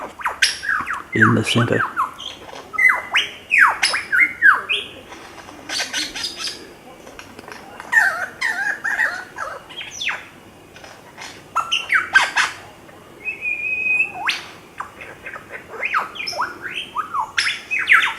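A lyrebird on a Blue Mountains cliff walk near Katoomba pours out a varied string of calls: chirps, squawks, whistles and rapid trills in irregular bursts, fairly close, with a brief spoken remark in the middle.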